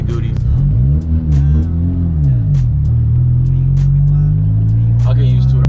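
Boosted 9th-gen Honda Civic (2012–2015 model with hybrid racing shifter cables) driving, its engine droning loud from inside the cabin, revs rising and falling then holding steady, with a few light knocks over it.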